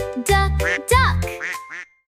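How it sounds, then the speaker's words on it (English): A duck quacks in a series of short, loud, nasal calls in a bright children's phonics song, clear and close with nothing else over it. "Duck."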